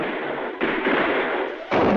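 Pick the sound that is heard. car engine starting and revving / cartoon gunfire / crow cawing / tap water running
cartoon gunfire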